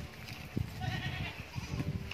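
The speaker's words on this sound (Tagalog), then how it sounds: "malapit na tayo sa mga kambing" Hungry goats bleat nearby on a farm, with several overlapping calls rising above a rustling outdoor background.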